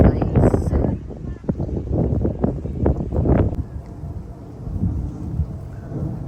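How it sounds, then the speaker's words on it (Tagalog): Strong wind at an outdoor bream fishing spot buffets the microphone in loud, rumbling gusts that rise and fall throughout, with voices partly buried beneath. "It's so windy."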